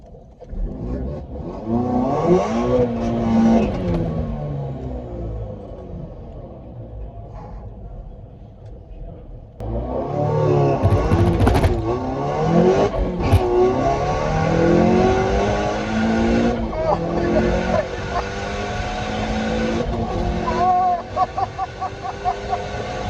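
A 480 bhp Volkswagen Polo GTI with a 1.8 turbo engine revs and accelerates hard at a drag strip, its loud engine climbing through gears with a surge of power partway through.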